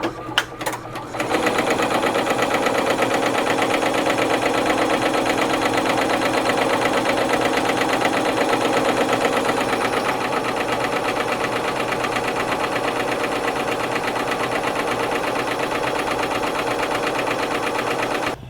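An embroidery machine stitching the tack-down layer on a stuffed animal makes a loud, continuous rapid mechanical chatter. It starts after a brief pause at the beginning and runs steadily to the end.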